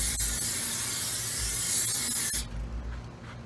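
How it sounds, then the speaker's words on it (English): Cooking spray hisses onto the grates of a 70th Anniversary Weber kettle grill in one steady, loud close-up blast that cuts off sharply, leaving a faint rustle. "I'm gonna hit these grills with this cooking spray right quick."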